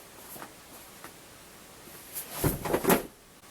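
Several books tumble off a chair indoors, a quiet room suddenly broken by a quick cluster of soft thuds and knocks near the end.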